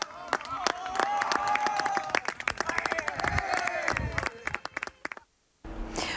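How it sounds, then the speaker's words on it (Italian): A crowd claps and cheers for young football players at the end of a match, dense applause building and thinning with brief whistles, then a short gap before more noise resumes. "Al 90° gli applausi di tutti sono per i giocatori del Treville"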